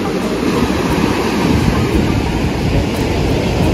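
Sea waves at high tide on Chivla Beach roll in as a steady, loud, broadband wash of surf with no break, close and continuous throughout, with no voices.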